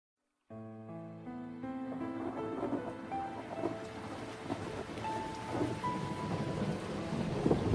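A thunderstorm with steady heavy rain, a dense hiss of drops under rolling thunder that swells and lingers, starting abruptly and building louder over several seconds.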